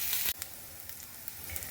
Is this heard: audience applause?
no